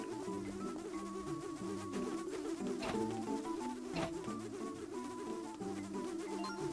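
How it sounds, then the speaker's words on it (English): Swarming bees in the video game Zelda: Spirit Tracks give a steady, moderately loud buzzing drone that runs through the whole stretch, mixed with tonal game music notes. "When you see them buzzing, start running or throw yourself in the water."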